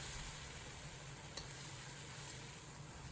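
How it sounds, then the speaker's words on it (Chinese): Egg sauce being stir-fried over low heat in a wok, with a steady soft sizzle and faint stirring throughout, alone and fairly quiet. "这个时候改开小火，把酱彻底炒香。"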